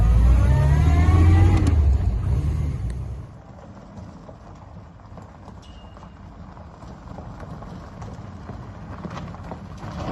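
A 1973 MG Midget drives past at about 30 mph, a loud engine note in the first few seconds that drops away to a quieter rumble and road noise.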